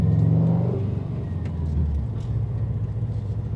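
A 2019 Subaru STI with an Invidia R400 exhaust idles and rumbles, a steady deep low-pitched burble close by with a slight rev at the start, heard alone without talk.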